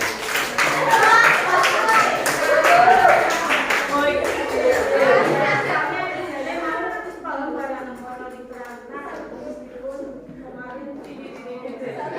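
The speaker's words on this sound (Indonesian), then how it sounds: "kita tepuk tangan ya" A class of children claps along together in a classroom, the loud, dense applause fading after a few seconds into scattered, softer claps while a teacher and kids talk over it.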